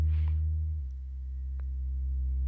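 A sustained synth bass note holds steady and low in an ambient arrangement, a long, soft drone with a slight dip and swell, plus faint clicks; no voices.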